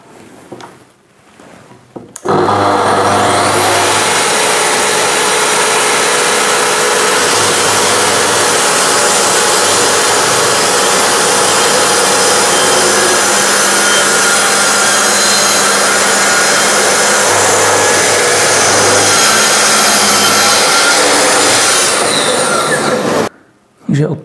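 A Festool TS 75 EBQ plunge saw with a vacuum attached starts up and cuts for about twenty seconds as one loud, steady, close-up whine, then stops abruptly.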